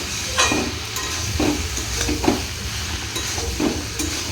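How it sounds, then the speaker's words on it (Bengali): Chunks of bottle gourd are stirred into fried spice paste in a pan, with a steady sizzle beneath it and soft scraping strokes of the spoon repeating about once a second. "মশলাটা কষা হয়ে গেছিলো, তাই যে ভালো করে লাউয়ের সাথে মিশিয়ে নিই"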